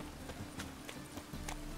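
Horse hooves clip-clopping in the video game The Witcher 3, a few evenly spaced sharp knocks at a walking pace over a steady low game-ambience hum.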